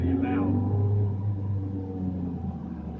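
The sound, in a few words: Ferrari 360 Challenge Stradale 3.6 litre V8 engine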